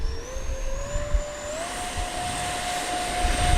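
An Arrows Hobby MiG-29 Fulcrum RC model jet takes off from a grass field, its electric ducted fan whining steadily and stepping up in pitch as power builds, fairly close and continuous.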